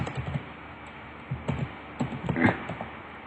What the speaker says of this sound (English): You can hear him typing in chat.